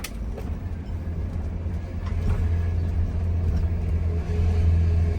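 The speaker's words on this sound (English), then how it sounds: "Jake brake test" A truck's Jake brake engaged for engine braking: a steady, deep, loud rumble that swells stronger partway through and holds, with no voices.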